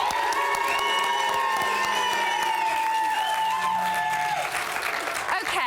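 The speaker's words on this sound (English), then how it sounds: "But quite a big reaction from the crowd this evening." A Big Brother studio crowd, gathered for a live eviction night, roars loudly with sustained applause, cheering and whoops from start to finish, with booing-like shouts woven through the dense noise.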